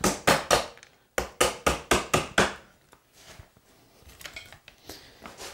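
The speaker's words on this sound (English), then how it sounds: "use the chisel to pop out the waste" A chisel chops the waste from a hand-cut tapered sliding dovetail in a wooden board: a quick burst of three sharp, loud knocks, a brief gap, then a fast run of five more, trailing off into softer, scattered taps.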